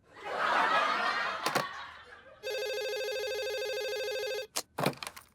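A telephone rings with a long electronic tone in the middle, preceded by a burst of noisy sound and followed by short sharp clicks and bursts.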